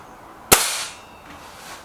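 A single sharp crack from an SMK Model 19 Supergrade air rifle firing, a close, loud snap with a brief fading tail, surrounded by quiet.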